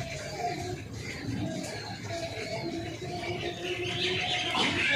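Released homing pigeons give faint chirps and soft coos outdoors, set against a steady background hum, with no talking.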